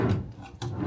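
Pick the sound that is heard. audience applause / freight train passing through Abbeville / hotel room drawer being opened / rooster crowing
hotel room drawer being opened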